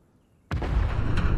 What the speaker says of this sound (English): The far explosion is yet another asset.